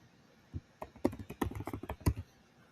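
Typing on a computer keyboard, a short close burst of about a dozen irregular key clicks, quiet and with no talking.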